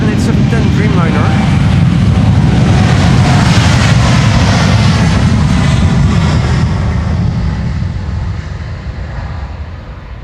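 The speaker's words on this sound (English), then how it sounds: "This is KLM flight 601 to LAX A78710 Dreamliner." A KLM Boeing 787-10 Dreamliner taking off from Amsterdam Schiphol's Polderbaan runway 36L, bound for LAX, produces a loud close jet roar with a wavering high whine that peaks early and then slowly fades as it climbs away.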